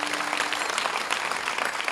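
An audience at a Marathi kirtan for Guru Purnima bursts into dense, steady applause, loud and continuous with no pauses and no talking over it.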